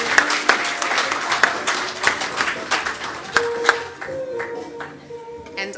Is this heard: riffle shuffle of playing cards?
no